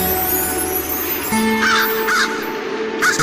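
A crow caws several times in short bursts, loud and close, used as a sound effect in a Ramayana narration, with no talking over it.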